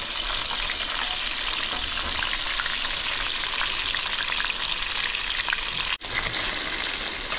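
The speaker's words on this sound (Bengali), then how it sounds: "দেখুন মাছটা হালকা ভাজবেন, যেহেতু এটা ঝোলে দেবো।" Tangra fish coated in oil and frying lightly in a pan for a curry with cauliflower, a loud continuous close sizzle with crackling that suddenly cuts off and then resumes more softly.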